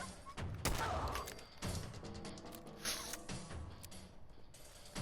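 Gunshots in Fallout 4 survival mode, a few sharp cracks scattered among mechanical clicks and thuds from the game, moderately loud with no talking.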